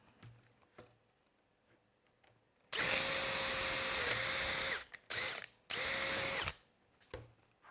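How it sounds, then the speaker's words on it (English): A power drill drilling through polycarbonate and metal whines in two high-pitched bursts, the first longer, with a short burst between, separated by quiet handling clicks. "we flip it back over and drill again"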